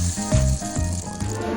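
A homemade rain stick rattles close up in a few quick shaking bursts, its gritty, scattered clatter rising and falling over a short span without any voices.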